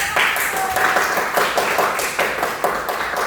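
A classroom of students clapping their hands, a short burst of brisk, fairly close claps in uneven rhythm lasting a few seconds.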